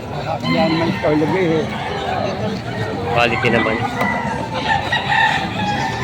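Chickens cluck and a rooster crows amid a noisy poultry market yard in Padre Garcia, Batangas, with people talking over the birds throughout.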